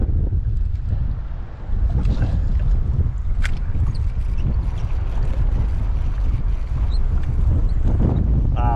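Strong wind roars and buffets the microphone in steady low gusts outdoors at a high mountain lake, with faint rustling over the top and no talking.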